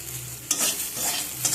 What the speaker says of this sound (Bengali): সব কিছুকে ভালো করে নেড়ে নেব।